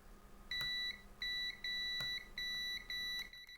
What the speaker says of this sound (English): I'm going to get the continuity tester and just double check